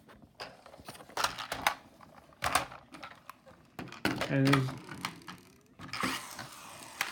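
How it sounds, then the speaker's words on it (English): The ramp of a Hess toy truck is lowered by hand and makes a series of close plastic ratcheting clicks and clunks in uneven bursts, while a person talks nearby. "I'm going to bring the ramp down."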